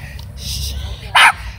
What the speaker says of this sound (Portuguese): Tem outro cachorro ali, ó.